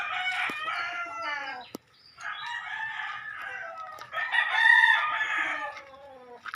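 A Talisay rooster crows in several long, drawn-out calls close by, with a brief pause between them and no voices.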